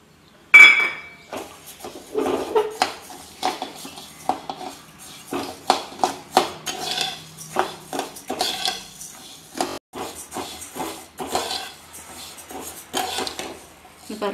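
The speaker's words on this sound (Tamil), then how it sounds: "இப்போ இந்த அரிசியை நம்ம வறுத்துக்கலாம்." Uncooked rice being dry-roasted in a pan for Tamil soji kichadi, with a steady run of sharp clinks and scrapes as a spoon stirs the grains against the metal, moderately close.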